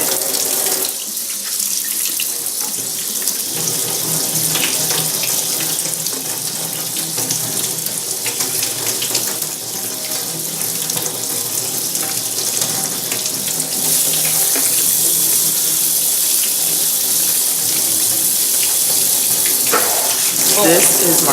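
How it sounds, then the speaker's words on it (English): Cold water runs steadily from a kitchen sink tap, a loud continuous splashing gush that stays constant for about twenty seconds and grows slightly fuller partway through. "I take this over to my sink, turn the water on cold, maybe a little bit warm"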